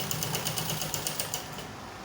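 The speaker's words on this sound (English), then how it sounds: "Now we are going to be stitching it, following our sewing allowance." A sewing machine stitches the seam of a kimono dress, a steady fast mechanical whir with rapid rhythmic ticking that runs continuously at close range, then thins out toward the end as the stitching eases off.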